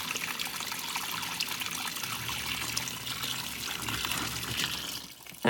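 An overloaded LG top-load washing machine on a normal cycle fills with water in a steady, rushing pour, with a brief louder knock right at the end.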